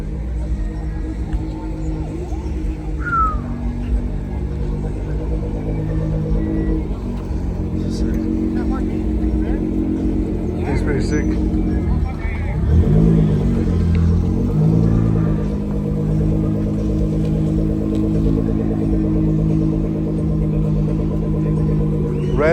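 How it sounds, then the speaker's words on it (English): Nissan GTR pulling in at a large car meet, a low rumbling engine idling and creeping closer with a brief rise in revs midway, while people talk nearby throughout. "We got a GTR coming in right now."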